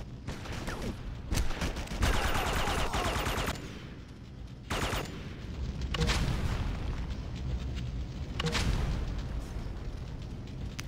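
Red Faction 2 combat with rapid gunfire bursts and several heavy grenade blasts, the loud explosions arriving in separate waves spread across the stretch over a constant rumble of battle.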